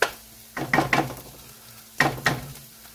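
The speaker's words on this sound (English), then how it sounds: "let me go grab the beef tips, throw them in here" Beef tips frying in a pan: soft sizzling under several sharp scraping and clinking strokes of a utensil against the pan, arriving in two clusters with quiet gaps between.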